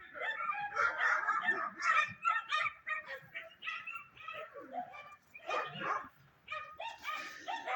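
Neighbouring dogs bark repeatedly in quick uneven bursts, several voices overlapping at moderate distance outdoors, with a brief lull before the barking resumes.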